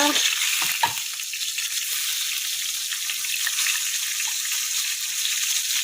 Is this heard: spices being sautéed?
yes